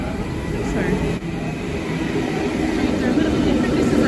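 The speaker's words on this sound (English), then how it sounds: "So here comes the intercity train." A Sydney intercity train bound for Newcastle pulls into the station, its loud, continuous rumble and rolling roar filling the platform and swelling slightly toward the end.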